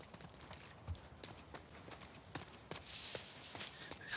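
Horse hooves clip-clopping in the video game The Last of Us 2, a steady run of light, fairly close hoof strikes over a soft, noisy background.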